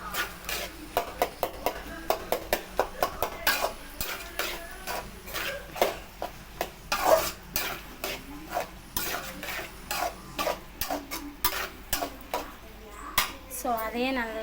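A spoon scrapes and knocks repeatedly against a pan while squid thokku is stirred with turmeric powder, with rhythmic clattering strokes, faint sizzling and a voice talking over it.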